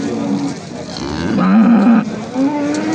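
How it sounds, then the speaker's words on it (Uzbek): A Simmental cow lows at a busy livestock market, one drawn-out, wavering moo rising over crowd chatter and market bustle, fairly close and loud. "Navbatda semental sigirimiz."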